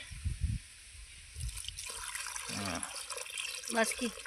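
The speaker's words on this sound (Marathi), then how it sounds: "टाका पाणी" Water pours with a short gurgling splash into a pan after a brief voice at the start, trickling and bubbling faintly.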